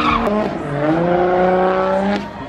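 A professional drift car at a Pattaya drift club slides with a high, drawn-out tire squeal rising and gliding in pitch over engine noise, loud and close for a couple of seconds.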